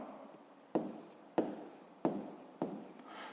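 A pen writing out a fifth-grade math solution, heard up close as four quick firm strokes at a steady rhythm, each starting with a sharp scratch and fading, in a quiet room.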